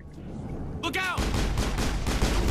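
Rapid assault rifle fire from the Lancer in the video game Mass Effect bursts in loudly after a brief electronic whir, continuing as sustained automatic gunfire to the end.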